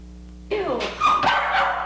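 A small dog at a humane society animal shelter in 1993 gives short yips and whimpers that begin abruptly after a quiet moment, close and fairly loud.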